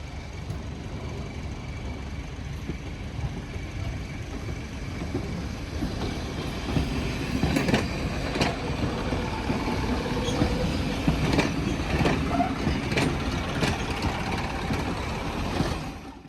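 A restored railway brake van rolls along rails after a push, giving a steady low rumble with occasional clicks and knocks from the wheels over about sixteen seconds, with no talking.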